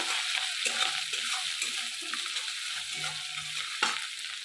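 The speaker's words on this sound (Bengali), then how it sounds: "দেখুন মাছের তেল মোড়াটা আমার ভাজা হয়ে গেছে।" A fish oil pouch fries in hot oil in a wok, a steady close hiss and sizzle broken by stirring scrapes and a sharp clack near the end, with no talking.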